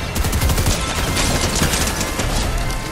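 Rapid, continuous laser-style ray gun fire from a shiny metal Bender ray gun in a video game, a dense loud burst of repeated shots running steadily throughout.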